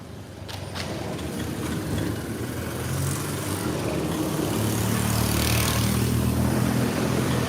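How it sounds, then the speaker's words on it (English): A motorcycle engine runs steadily close by on a street in Cambodia, a dense continuous rumble that grows slightly louder over several seconds with no talking. "when the motorcycle engine is so loud, it almost hurts me"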